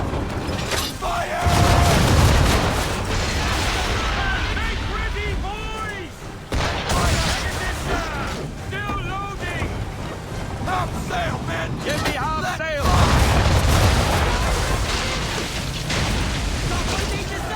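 Ship cannon broadsides in Assassin's Creed naval combat, 1776 era: heavy booming volleys at the start and again near the end, with creaking wood, wind and shouted commands between the blasts, and someone talking over much of it.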